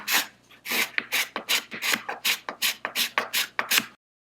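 A hand scraper flattens crazy glue dots on a wooden butterfly inlay piece, producing about a dozen short, crisp scraping strokes in a brisk, regular rhythm at close range before it stops.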